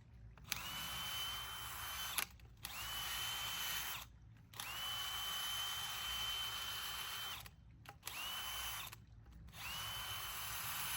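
A power auger drilling into garden soil for fall container planting, running in several bursts of steady whining motor noise with short pauses between them, close and fairly loud.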